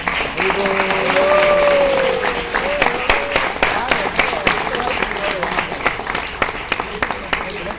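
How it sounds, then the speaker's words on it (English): Audience applauding after a folk theatre club's play, clapping mixed with crowd noise while a voice speaks over it near the start, then the claps thin into scattered sharp individual strikes toward the end. "A round of applause for them, please."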